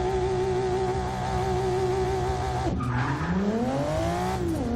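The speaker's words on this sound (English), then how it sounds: "Brakes the tires loose for a second, and then it's all traction." A Volvo S60 Polestar with all-wheel drive engine drones steadily, then its tires squeal and break loose under braking, the pitch sliding down before the engine picks back up, close and loud.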